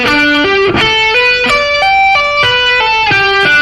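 Clean, bright electric guitar plays a slow sweep arpeggio, with distinct notes climbing and falling in even steps, loud and alone.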